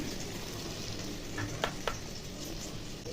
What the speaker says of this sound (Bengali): পটলটা ভাজা ভাজা হয়ে গেছে, এখন মশলাটা দিয়ে দেবো